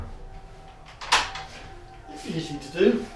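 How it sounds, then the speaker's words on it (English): A door being shut aboard the historic steamship SS Great Britain in Bristol, one sharp close bang about a second in, followed by a person talking. "shut the door."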